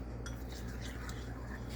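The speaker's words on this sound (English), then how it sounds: "let me use the whisk" Cheeseburger pie batter whisked in a bowl, a quick, faint run of light wire clicks and scrapes against the dish over a low background hum, nobody speaking.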